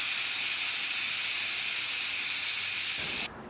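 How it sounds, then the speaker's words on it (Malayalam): A pressure cooker cooking stew lets out a loud, steady hiss of escaping steam that runs for about three seconds and then cuts off abruptly. "സ്റ്റൂവിനുള്ള കുക്കർ വെച്ചിട്ടുണ്ട്."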